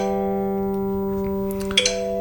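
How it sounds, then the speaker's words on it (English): Acoustic guitar third string tuned to G sounds as one long sustained plucked note, steady and close, with a faint rustle near the end and no talking. "String 3 should sound like this."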